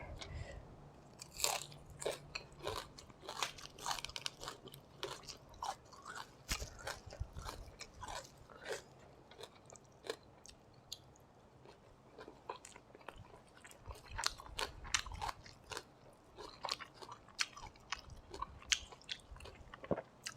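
Close, crunchy chewing of big mouthfuls of sticky rice and vegetables dipped in fermented soybean chili paste, with repeated sharp bites and moist mastication in an irregular rhythm for the whole stretch, with no talking.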